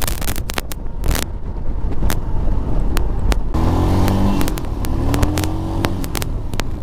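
Motorcycle ridden off-road on a rough track, its engine running loud and close with rising revs, rattling bumps and wind buffeting the microphone throughout.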